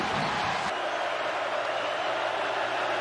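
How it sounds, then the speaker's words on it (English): Dense, steady roar of a large stadium crowd at a 2022 Tennessee versus Florida college football game, loud and continuous throughout with no clear individual voices. "Crowd noise is a factor."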